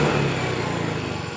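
A Yamaha Mio M3 scooter with a fault that makes it die when throttled runs with a rough, uneven engine note, a close, steady low rumble with faint irregular pulsing and no voices.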